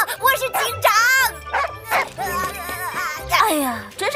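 A cartoon dog barks and yips among animated character voices and lively children's chatter, all fairly loud and close.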